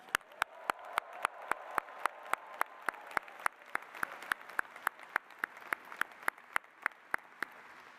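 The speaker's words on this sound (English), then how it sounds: "give them one more round of applause" Audience applause at a spring university engineering commencement ceremony, heard as steady, evenly spaced sharp claps, most likely one clapper standing out, over a soft crowd wash at moderate distance.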